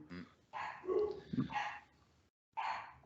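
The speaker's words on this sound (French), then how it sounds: "les chiens t'appellent" Dogs bark in a house during a podcast-style chat, a few close, loud barks and yips in quick succession, a short pause, then another bark.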